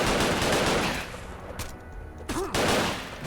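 A hostile machine in a video game opens up with dense rapid gunfire, loud bursts at the start and again near the end, with a short lull and a brief electronic warble in between.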